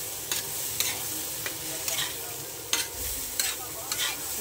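Dal being stirred and mixed in a pot, repeated spoon scrapes and taps at an uneven rhythm over a low background hiss, close by.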